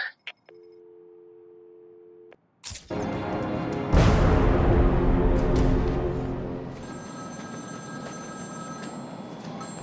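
A telephone rings in Batman Arkham City during the Zsasz side mission: a steady electronic ring tone for about two seconds, then a sudden loud crash and dense game noise with bright sustained tones that carry on to the end.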